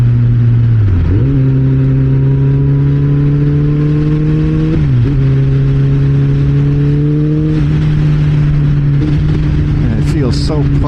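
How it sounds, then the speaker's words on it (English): A Kawasaki Ninja ZX-14R motorcycle accelerates up through the gears, its loud engine tone rising steadily with brief dips at shifts. Wind roars throughout, and a rider talks under the engine. "I'm just barely touching the throttle and I'm taking off"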